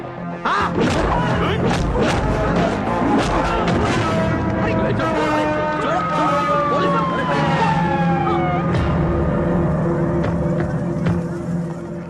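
A siren wails amid busy traffic and loud commotion, with voices talking and a rising, sweeping tone cutting through the noise.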